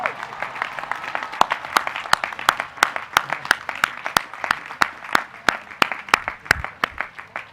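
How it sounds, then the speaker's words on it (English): Sparse, distinct hand claps ring out at a university commencement ceremony as graduates are honored, a scattered audience clapping in an uneven rhythm with sharp individual claps standing out over a soft crowd murmur. "Let's give them a round of applause."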